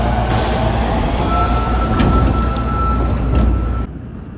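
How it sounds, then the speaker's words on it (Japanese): A four-car Osaka Metro train departs Imazato Station underground, with a loud, continuous rumble of wheels and a thin, steady motor whine heard from nearby, ending abruptly. "今里駅を発車。"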